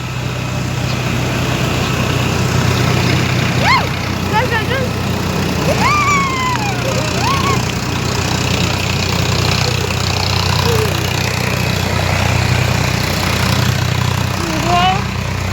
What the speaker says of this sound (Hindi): ये ट्रैक्टर देखो, ट्रैक्टर।